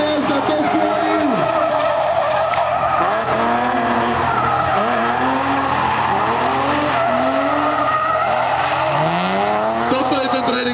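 A drift car on a training run at a drift challenge in Paddock Pezinok skids continuously, its engine revving in rising and falling sweeps over loud tire squeal, with a voice faintly underneath.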